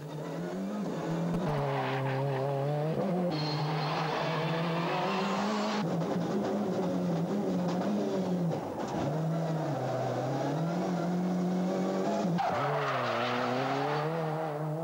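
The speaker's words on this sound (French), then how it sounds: "la Citroën Xara WRC a effectué ses premiers tours de roue officiels dans le Vercors" A Citroën Xsara WRC, a four-wheel-drive turbo rally car, drives its first laps in the Vercors with sustained loud engine drone, shifting revs and tire skids throughout, no voices.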